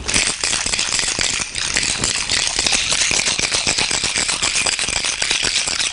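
Rum, amaretto and ice are shaken in glasses, producing a loud, continuous, dense rattle of ice that runs steadily for several seconds.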